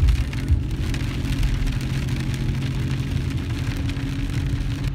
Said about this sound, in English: now it's starting to rain out